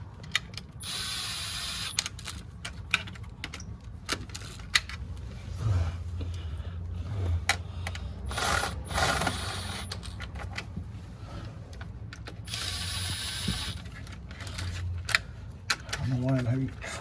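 A cheap socket wrench ratchets on bolts of a 1987 Cutlass, giving bursts of close, rapid clicking separated by quiet gaps, with light clanks and faint talk in between.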